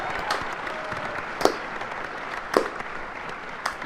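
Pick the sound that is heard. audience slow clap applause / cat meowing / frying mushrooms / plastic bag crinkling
audience slow clap applause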